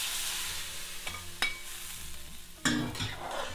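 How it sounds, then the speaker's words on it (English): A fried tempering goes into a lamb or mutton dal curry and gets stirred. Close, soft sizzling runs under a few sharp utensil knocks and scrapes against the pot, with no voices. "Release it into the curry, stir it, don't waste anything."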